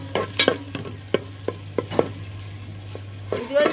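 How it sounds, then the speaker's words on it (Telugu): Masala paste frying in oil over a wood fire, with a low sizzle and a series of sharp, separate scraping and tapping stirs close by, plus a steady low hum underneath. "ఈ మసాలా ముద్దని బాగా వేగించుకోవాలి"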